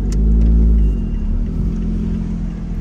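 A stock car engine revs loudly up close as the car drives, a strong low rumble that swells in the first second and then settles into a steady, throaty drone with no talking.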